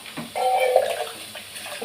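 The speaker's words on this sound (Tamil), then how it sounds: "கொஞ்சமாக தண்ணி சேர்த்துக்கிடலாம்." A small amount of water is poured into a cooking pot of broad bean curry, a brief close gush that swells and then tapers off within about a second.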